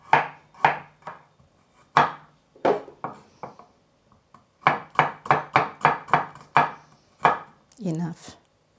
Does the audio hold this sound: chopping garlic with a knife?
yes